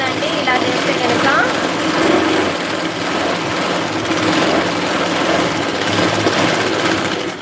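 A sewing machine stitches canvas into Punjabi dress pants, giving a loud, steady, continuous mechanical whir that runs without a break, with a voice faintly present beneath it.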